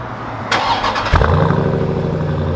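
A Dodge Durango SRT's 6.4-liter V8 is started by remote: a brief starter whir, then the engine catches with a loud, close rumble and settles into a deep idle.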